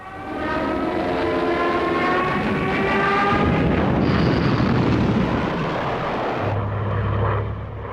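WWII Luftwaffe aircraft attack shipping in the English Channel, producing a loud, continuous, roaring engine drone with a rumbling, explosive wash that swells and holds for several seconds before shifting into a lower steady hum.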